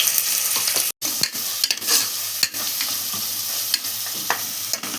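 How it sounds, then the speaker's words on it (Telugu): Ginger paste frying with softened onions in a pan for chicken cooker pulao, a bright continuous sizzle up close with occasional spoon scrapes and taps as it is stirred, no voices. "ఉల్లిపాయలు మొత్తం మగ్గిపోయినప్పుడు అల్లం పేస్ట్ వేసుకుంటున్నాం"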